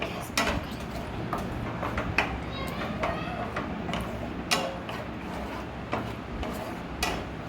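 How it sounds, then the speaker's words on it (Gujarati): Paneer being stirred into a spinach puree for palak paneer, with a spoon clinking and scraping against the pan in scattered, fairly close strokes under a person talking. "પ્યુરીમાં સરસ રીતે આપણે તેને હલાવીશું અને સરસ રીતે તેને મિક્સ કરી લઈશું"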